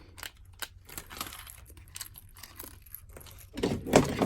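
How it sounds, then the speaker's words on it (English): A plastic zip tie being pulled through its ratcheting head on a homemade sugar glider and bird toy, a series of close, quick clicking ticks ending in a louder rattling burst. "take your zip tie, pull it through,"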